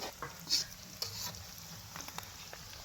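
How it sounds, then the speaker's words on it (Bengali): Chicken cooks in a pan at an outdoor farm picnic, a faint, steady sizzle with occasional stirring clinks and scrapes heard from a distance. "মুরগি রান্না চলছে।"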